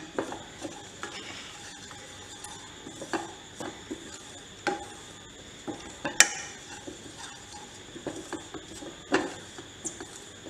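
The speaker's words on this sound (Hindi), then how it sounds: "लगातार हमने इसको हिलाते रहना है।" A spoon scrapes and clinks irregularly against a pan while a milk-and-coconut modak mixture is stirred and roasted, producing sharp metallic taps over a quiet background.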